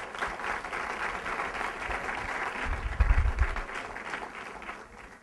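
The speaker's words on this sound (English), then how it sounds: "So let's give Frank another round of applause" An audience at a university politics institute event applauds a speaker with steady, moderately distant clapping that holds at an even level throughout and eases slightly at the end.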